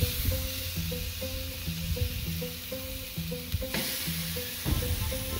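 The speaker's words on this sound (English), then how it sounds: "I'm gonna start off with a quick sear on both sides of these" Thick-cut pork chops searing over a hot Weber kettle grill, a steady close sizzle with a few sharper pops and scrapes, no talking.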